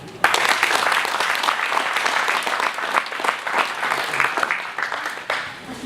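An outdoor crowd at an agricultural fair in Saint-André-les-Alpes applauds a Chamber of Agriculture technician, with sustained, lively clapping across several seconds and some voices mixed in.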